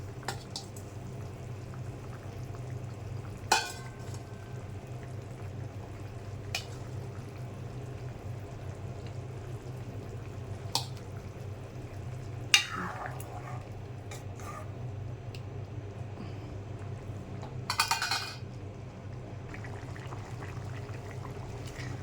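Egg curry with potato and tomato simmering in a pan, a quiet steady bubbling over a low hum, broken by a few sharp clinks and scrapes.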